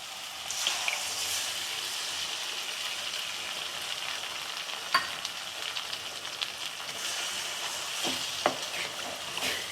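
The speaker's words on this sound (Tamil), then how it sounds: "வாங்க முட்டையை ஊற்றிக்கலாம்" Beaten egg sizzles steadily in a hot pan and is stir-fried with idiyappam string hoppers, a continuous bright frying hiss with occasional scrapes and taps of a utensil and no talking.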